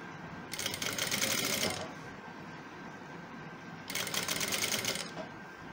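A sewing machine stitches a shirt in two short bursts of running, separated by a pause of a couple of seconds with no talk.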